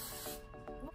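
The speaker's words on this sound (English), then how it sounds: "spray your hair with Aqua net" Aqua Net hairspray hisses onto hair in several quick bursts, close and fairly loud, with brief pauses between sprays.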